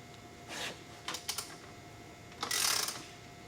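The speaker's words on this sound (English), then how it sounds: "we're going to go ahead and tighten our flange bolts all the way" Motorcycle exhaust flange bolts being tightened with a ratchet wrench during an exhaust install, giving a few short bursts of clicking and ratcheting, one at about half a second, a pair near the middle and a longer run toward the end, over a quiet garage hum.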